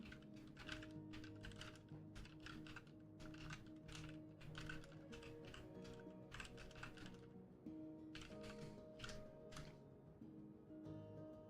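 Fingers tap on a computer keyboard in quick clattering bursts separated by short pauses, faint and close, over a low steady hum from a game running in the background.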